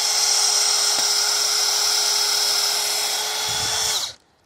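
A power drill bores a tap hole into a maple tree, whining at a steady high pitch for about four seconds, close and loud, then cutting off abruptly.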